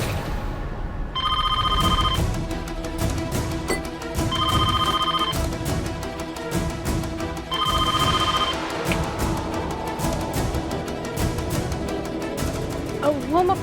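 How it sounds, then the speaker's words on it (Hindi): A landline telephone rings in a home drama scene, sounding three bursts of electronic trilling evenly spaced about three seconds apart over background music. "उसी ने दोबारा फोन किया होगा, हम देख लेते हैं।"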